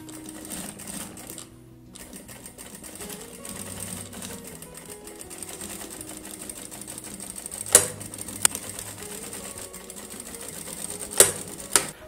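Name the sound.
sewing machine stitching fabric nécessaire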